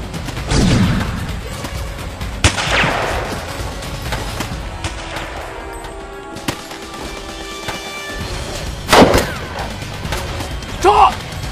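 Sniper gunfire in a war film battle scene, several loud isolated cracks and thumps spread through tense ambience, with voices talking in between.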